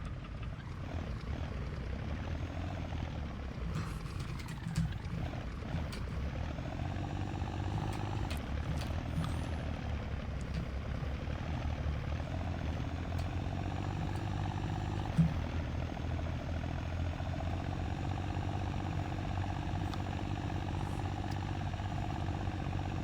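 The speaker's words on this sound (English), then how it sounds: "We'll go take our tractor over there." A tractor engine in the game My Winter Car drones steadily for the whole stretch, a low rumbling hum with shifting tone as it works, fairly near and uninterrupted by speech.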